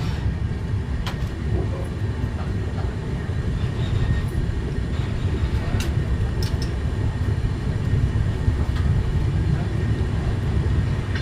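The Kolkata–Jammu express pulls out of Shahganj station with a continuous low rumble of rolling wagons that holds steady throughout, with faint clicks and clanks on top.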